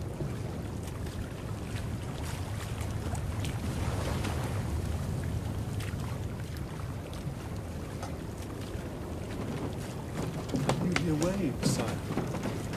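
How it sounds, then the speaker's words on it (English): A radio-drama effect of sea waves breaking on a shore, in a sailing-ship voyage scene. A steady broadband wash of surf runs throughout, swelling slightly near the end, with faint voice-like sounds mixed in. "Waves breaking upon a shore."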